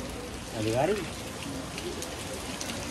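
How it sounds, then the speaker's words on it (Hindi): Steady rain falls over a village, a continuous soft hiss that runs under someone talking loudly in the foreground. "तो भाइयों अच्छी वर्षा हो रही है"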